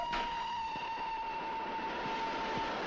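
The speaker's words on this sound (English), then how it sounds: "a train held me up at the level crossing" A steady rumble of a passing train with a continuous high tone, like a crossing bell or horn, and a few faint clacks, heard from a moderate distance.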